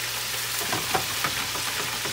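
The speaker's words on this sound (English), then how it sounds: "Okay, you guys, my grease for my shrimp is ready." Hot oil sizzles and crackles steadily as shrimp fry, with scattered pops over a constant frying hiss.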